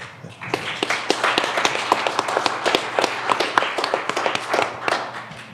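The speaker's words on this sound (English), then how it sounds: "give yourselves a round of applause" An audience in a church hall gives a round of applause, a dense patter of many hands clapping that rises quickly and holds steady at moderate volume, heard from within the crowd.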